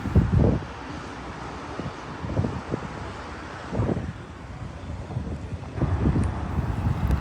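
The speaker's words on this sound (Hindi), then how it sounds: "बहुत तेज़ हवाएं यहाँ चल रही हैं।" Strong wind on the Baku seaside by the Caspian Sea buffets the microphone in heavy, rumbling gusts that rise and fall over steady blowing noise, with no voices.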